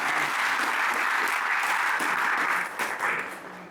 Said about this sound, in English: Can we have a round of applause for our brother?